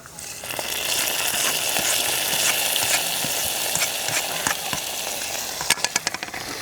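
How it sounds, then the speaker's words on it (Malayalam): Dried red chillies and curry leaves splutter in hot oil in a home kitchen, giving a steady loud sizzle with scattered pops that turn into a quick cluster of sharp crackles near the end. "ഇനി നമ്മൾ ചേർക്കണത് വറ്റൽമുളകും കറിവേപ്പിലി കേട്ടോ അതും കൂടി അങ്ങോട്ട് പൊട്ടിക്കഴിഞ്ഞാൽ"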